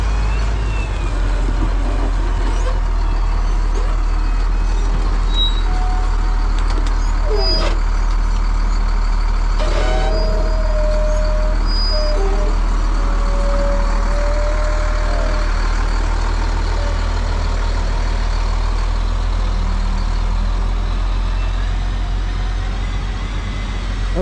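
A road grader working on road construction, a steady deep diesel rumble continuing throughout with occasional hisses, clanks and brief tonal beeps over the drone.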